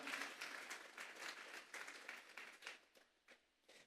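A church congregation at a Sunday service claps together as an offering to God, a soft, fairly distant patter of many hands that thins out into scattered claps toward the end.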